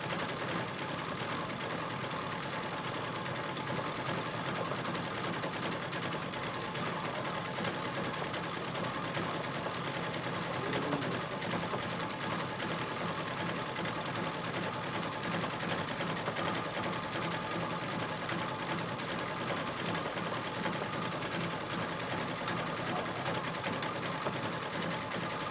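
A sewing machine stitches a quilted leaf pattern through fabric, running in a steady, continuous mechanical whir at close range for the whole stretch with no talking.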